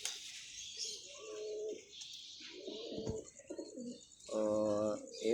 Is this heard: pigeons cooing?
yes